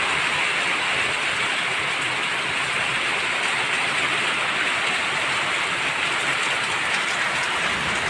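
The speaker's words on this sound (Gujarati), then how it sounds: "બહુ જ સારો એવો વરસાદ આવે છે આજ તો." Heavy monsoon rain pours down steadily in a village, a dense, even hiss that stays constant throughout without talk.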